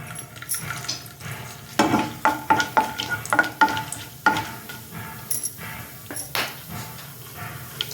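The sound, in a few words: garam masala frying in oil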